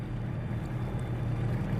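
A video game boat motor hums steadily with a low droning rumble, moderately quiet and continuous, with no voices.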